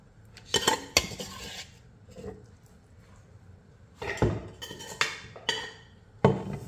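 A chicken, egg and spice filling is mixed in a bowl, giving bursts of utensil clatter and scraping against the dish separated by quieter pauses.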